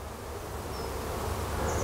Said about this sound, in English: This rather handsome wasp is Dolichos vespula media, I think.